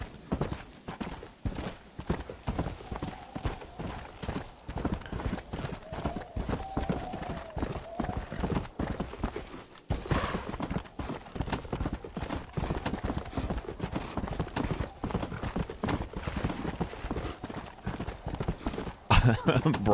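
Horse hooves clip-clop in the video game Red Dead Redemption Undead Nightmare, a steady rhythmic trot under game sound, while someone talks over it almost throughout.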